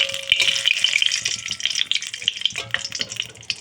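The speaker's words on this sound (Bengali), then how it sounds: "তো তেলটা গরম হয়ে গিয়েছে, দিয়ে দেব দুটো তেজপাতা," Two bay leaves crackle and sizzle in hot oil left from frying fish in a home kitchen. A steady, fairly loud hiss is dotted with sharp pops and faint clinks throughout, with no voices.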